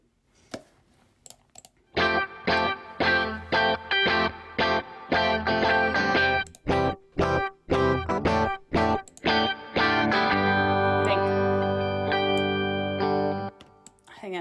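An electric guitar rings through an amplifier with reverb, chords strummed in a rhythmic pattern with a reverberant tail, ending on a long sustained chord; no talking.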